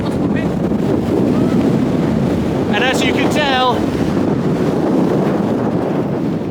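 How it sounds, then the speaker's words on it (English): Strong wind gusts roar steadily into the microphone on the Camino de Santiago Francés, loud and unbroken, while a person speaks briefly over it. "it is very, very windy."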